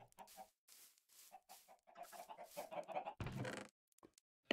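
Chickens clucking in Minecraft Bedrock, a run of short, repeated clucks at a steady pace that turn busier toward the end, with a brief louder rustling burst near the close.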